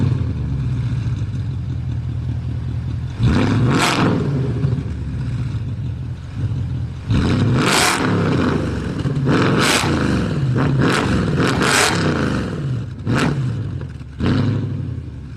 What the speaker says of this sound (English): take a listen to the M156.